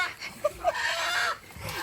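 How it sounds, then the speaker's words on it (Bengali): Soft, quiet clucking from one or two desi chickens in a coop, with a couple of brief calls over faint background noise. "এখানে তারু মুরগি ধরছে দেখুন খোয়ার থেকে"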